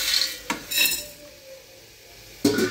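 Whole spices such as stone flower, cinnamon and cloves dry roasting in a pan, with metal utensil clanks and scrapes against the pan at the start and end and a faint low sizzle in between.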